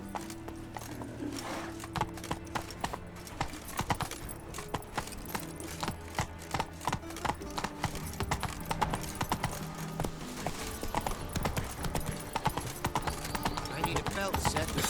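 Hoofbeats from the horse Roach galloping in the video game The Witcher 3 form a steady, fast clip-clop rhythm that runs the whole time, close and fairly loud under a layer of in-game music.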